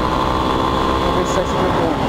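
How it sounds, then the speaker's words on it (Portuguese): Car engine pulling hard in third gear while driving, a steady loud broadband drone with a continuous harmonic hum and no talk over it. "Vou dar a terceira aqui, vai. Trabalhar mais cheio o motor, vamos ver."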